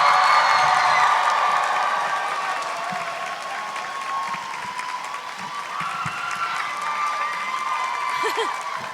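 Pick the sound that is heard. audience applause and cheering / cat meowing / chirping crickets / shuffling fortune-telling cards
audience applause and cheering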